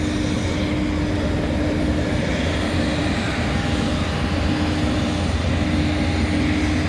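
Airplane at Varna airport in Bulgaria, a steady broadband engine roar with a constant low hum holding level and loud throughout, no talk heard over it.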